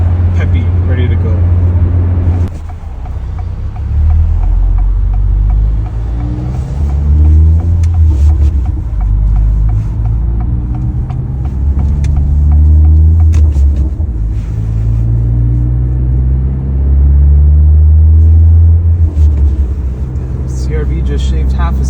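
Honda Civic Si fitted with an MBRP exhaust, driven at night, giving a loud continuous engine and exhaust drone that rises and falls with revs throughout, with someone talking over it.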